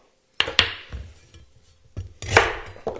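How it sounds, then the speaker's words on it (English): Ginger being shredded by hand in a kitchen, with a few sharp close knocks and scraping strokes against a board or grater, spaced irregularly with brief pauses between. "I'm just shredding this this ginger down"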